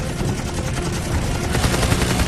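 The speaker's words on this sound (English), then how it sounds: "He pulls out on a strafing run on a Japanese cruiser." A WW2 Hellcat fighter making a strafing run on a Japanese cruiser, its machine guns firing in a dense, continuous rattling burst, loud and blended with roaring engine noise throughout.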